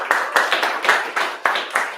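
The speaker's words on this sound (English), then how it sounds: "Round of applause" A small audience at an incubator graduation party gives a short burst of clapping, about seven distinct, fairly close claps in an uneven rhythm.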